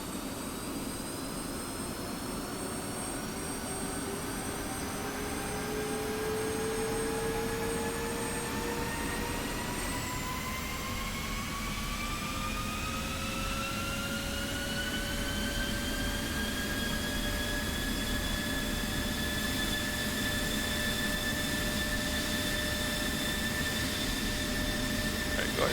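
A jet engine spooling up after ignition in the DCS World flight simulator, a loud steady roar with whining tones that rise in pitch and climb over about twenty-five seconds, close and alone, with no talking.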